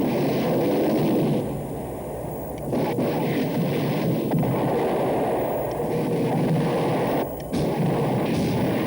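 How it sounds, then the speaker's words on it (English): Dense, continuous roar of gunfire and explosions from the 1984 film Airwolf, loud and layered, with a brief dip midway before the barrage resumes. "So many explosions."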